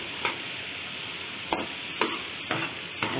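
Chopped onions sizzle in a hot pan with a steady frying hiss, and about five soft stirring scrapes come at regular intervals. Close and moderately quiet, with no voices.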